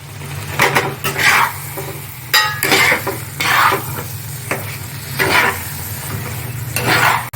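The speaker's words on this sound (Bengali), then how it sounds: "এবার ভেজে রাখা আলুগুলো দিয়ে দেবো।" Fried potatoes tipped into a masala with rajma and stirred in a pan for a chicken rajma dish: a series of short scraping, clattering stirring bursts at a steady pace, with faint sizzling underneath.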